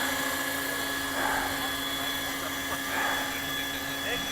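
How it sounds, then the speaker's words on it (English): A helicopter drones steadily overhead, its rotor hum swelling slightly twice, with muffled voices faintly underneath. "Oh, that's the helicopter. I was wondering what that noise was."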